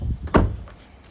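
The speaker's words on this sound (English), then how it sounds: "Let's just shut this door." Door of a 2017 Ford Ranger 3.2 TDCi Wildtrak pickup slammed shut once, a single close, solid thud with a short metallic ring, alone.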